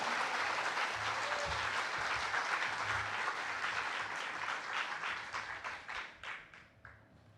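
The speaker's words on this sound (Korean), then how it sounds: "할렐루야. 박수하십시다." A church congregation at a Korean worship service applauds to welcome a speaker. Dense, steady clapping fills the room, then thins into scattered claps and fades out over about seven seconds.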